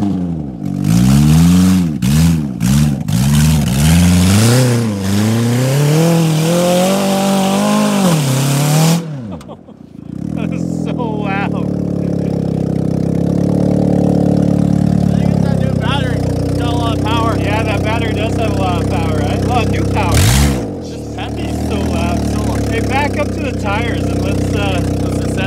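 A Chevy derby race car engine revs hard in repeated rising and falling bursts, very loud and close, then settles into a rough, rumbling idle, with a brief cut and a blip partway through.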